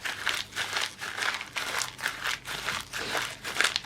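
Brittle paper being crinkled and crunched by hand during art journaling, a steady series of close, crisp crackling bursts in a loose rhythm with no pauses.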